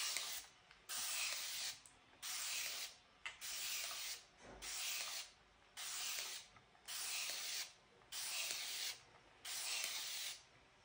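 Faint bursts of aerosol-style spray hiss over an old abstract painting being reworked, about eight even pulses roughly a second long with short pauses between, close and alone.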